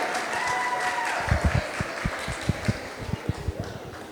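Audience applause for Omni after a Pledge of Allegiance at a school historic marker unveiling in Teaneck, a soft scattered patter of hands with a few louder distinct claps, fairly light and short.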